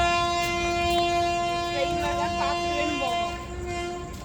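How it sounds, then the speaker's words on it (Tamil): A train horn sounds at Nagercoil Junction railway station in Kanyakumari, a steady loud blast held for several seconds over platform ambience, with brief voices and chirps in the background before it fades toward the end. "ஹார்ன் அடிக்கிறாங்க ட்ரெயினோட ஹார்ன்"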